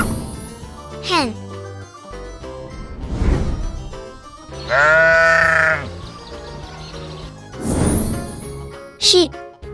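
Sheep bleating in several distinct wavering calls spread across the stretch, each loud and close, with a spoken voice in between naming animals.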